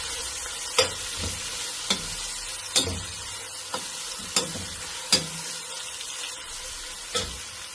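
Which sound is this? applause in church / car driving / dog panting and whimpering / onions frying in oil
onions frying in oil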